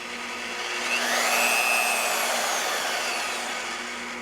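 A Vevor magnetic drill press motor runs in reverse with a steady, close electric whir and a faint high whine that rises and eases slightly, with no talking.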